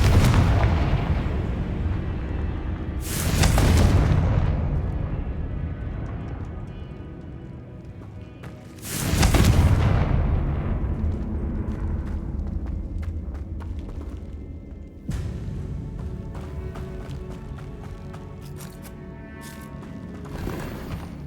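Confringo blasting spell in the Hogwarts Legacy game: two big booming explosions, each followed by a long rumbling decay, then a sharper crack, set among clattering hoof-like game effects.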